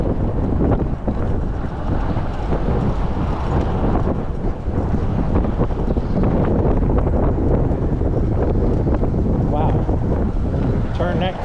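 Strong wind blasts across the microphone in a constant, loud roar on an outdoor trip near Clearwater, with no letup for the whole stretch and only faint voices underneath.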